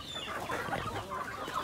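A flock of breeder chickens clucks busily while feed is scattered to them, a dense, steady chorus of nearby clucks and bird calls filling the whole stretch.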